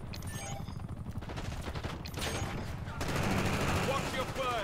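Rapid gunfire in Call of Duty Black Ops 6 multiplayer, steady bursts of shots running throughout and growing louder near the end, with background game noise and some talk.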